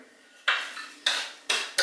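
A plate being handled in a home kitchen gives three or four sharp ceramic clanks and clatters, each ringing briefly and fading, close by with no talk.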